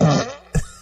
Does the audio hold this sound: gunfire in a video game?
no